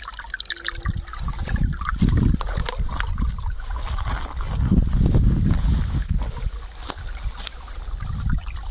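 Water trickling and gurgling through washed-out mole tunnels in a field, a close, uneven flow with bubbling surges and no talk.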